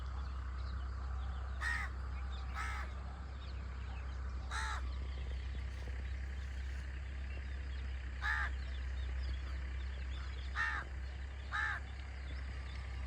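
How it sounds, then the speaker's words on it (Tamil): Crows cawing in a village: about seven separate harsh caws spaced irregularly over a steady low background hum, moderately distant, with no talking. "காகங்கள் எல்லாமே நம்மளுடைய முன்னோர்கள், நமக்கான ஆசீர்வாதங்கள்."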